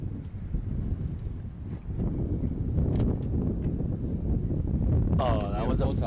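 Wind buffets the microphone at an outdoor women's cricket match in Seattle, a strong low roar blowing in from behind the bowler, with a voice briefly talking over it.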